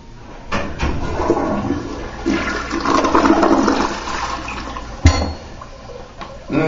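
A toilet flushes loudly and close by, a rushing swirl of water that builds and drains over several seconds, with a sharp clunk near the end and refilling water after it.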